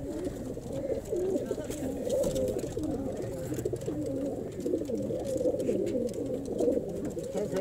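Pigeons coo steadily at close range in a Pakistani village, their soft throaty calls running on without pause, while a few faint voices can be heard in the background.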